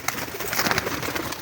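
Pigeons coo in short, throaty bursts near the listener, the soft calls overlapping against faint background noise with no talking.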